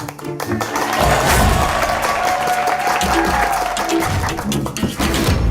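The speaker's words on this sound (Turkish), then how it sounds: "Toplantıya girerken çıkarken alkış" Office staff applaud loudly as the boss walks into a meeting, dense continuous clapping from a small crowd nearby with a few voices mixed in.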